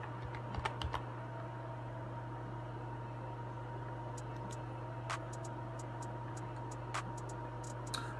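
Someone types an email address on a computer keyboard, sending out quiet scattered keystrokes in short clusters over a steady electrical hum.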